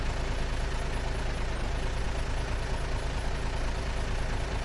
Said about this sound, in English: I'm guessing that's our train.